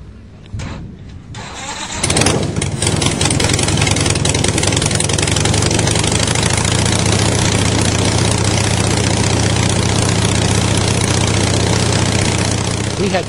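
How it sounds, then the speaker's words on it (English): A Harley-Davidson twin-cam engine fitted in an aircraft cranks briefly and fires up, then settles into a loud, steady, rumbling run that holds for over ten seconds. "They install the Harley-Davidson twin-cam engine in aircraft."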